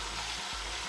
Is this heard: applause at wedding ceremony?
no